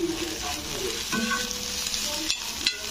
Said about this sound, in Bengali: তো চলো তার আগে ডিমটা আমি ভেজে নিই।